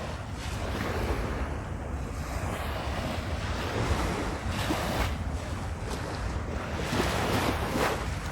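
Rough sea surf rolling onto Burj Al Arab beach, a continuous loud wash of breaking waves mixed with gusty wind buffeting the microphone, no voices.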